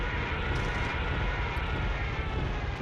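Aircraft engines in the World War II strategy game Decisive Campaigns: Blitzkrieg give a loud, continuous droning roar that stays even throughout, with no speech.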